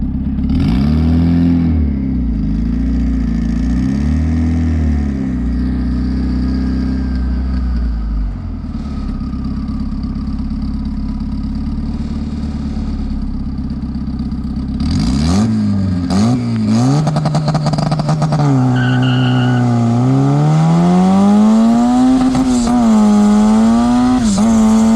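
A turbocharged Honda D16 car pulls hard under full throttle, its engine droning and then revving up in rising sweeps with a slipping clutch, loud and close throughout with no voices over it.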